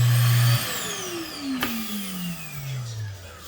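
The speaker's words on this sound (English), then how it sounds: "connect your hose, connect all the other components to it, and then turn the vacuum on." A central vacuum system in a 2021 Keystone Raptor 429 RV spins down after switching off, its motor whine gliding steadily lower in pitch over a few seconds, close and moderately loud.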